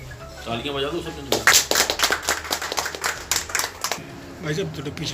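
Scattered hand clapping from a small audience at a farmers' wing press meeting, irregular claps building for a few seconds amid murmuring voices, then fading as talk resumes.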